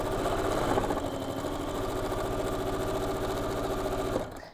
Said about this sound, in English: And I am going to start sewing down one side.